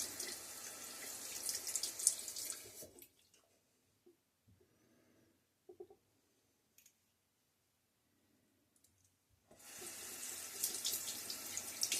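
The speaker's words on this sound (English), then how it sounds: "Run some water in it and give it a shake after I have opened it up a little bit." Tap water running into a sink while a safety razor is rinsed, a loud steady splashing stream at the start and again at the end, with a quiet stretch of small clicks and handling noises between.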